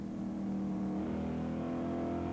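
A CASCAR stock race car from the 1993 Super Series engine roars steadily under throttle, a loud continuous drone with a rising pitch as it accelerates.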